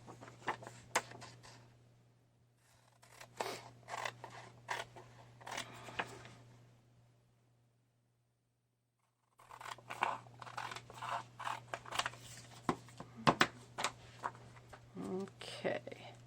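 Scissors snip through a book page, short crisp cuts in a few bursts separated by a pause of near silence, over a steady low hum, quiet and close.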